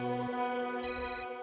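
A phone rings with a bright electronic melodic ringtone, fairly quiet and brief, playing a short changing tune.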